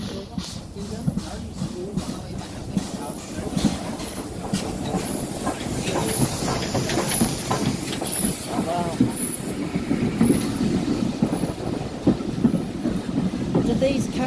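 Onboard an Island Line Class 484 train heading to Ryde Pier Head, a continuous rumble of wheels and carriage with rhythmic clicking over rail joints and faint squeals, heard from inside at moderate level.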